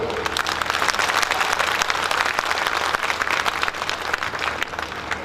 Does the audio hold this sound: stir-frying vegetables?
no